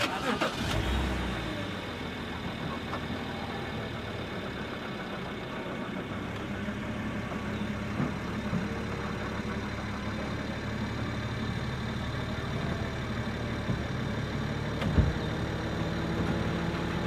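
A 2011 BMW 325i M Sport coupe with a 3.0-litre engine fires up with a short burst, then settles into a steady, low, even idle that holds to the end, with one brief knock near the close.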